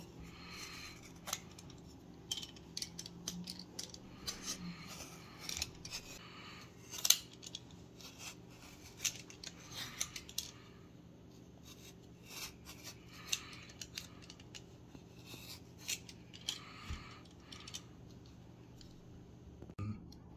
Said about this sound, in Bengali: তারপর আমটিকে ভালো করে আমি ছিলে নিচ্ছি